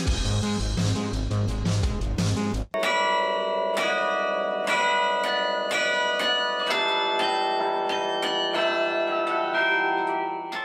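A city carillon in Lyon rings out a song for the 2019 Fête de la Musique, bright bell notes struck one by one in a slow melody, each ringing on. Denser music plays briefly before the bells take over.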